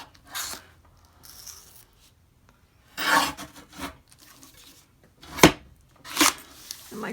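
A paper trimmer cutting the end off paper for an up-cycled envelope journal, giving scattered rasping, scraping strokes of varying length between quiet pauses, close and fairly loud, with no talking.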